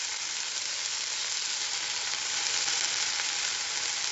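Sliced tomatoes and garlic frying in oil for pink sauce pasta, a loud, even, continuous sizzle close up with no pauses.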